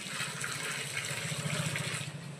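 Formalin water pours from a bucket onto mushroom casing soil, a continuous close splashing gush that stays steady for a couple of seconds and tapers slightly at the end.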